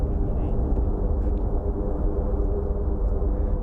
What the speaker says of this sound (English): C-130 taxiing to take off.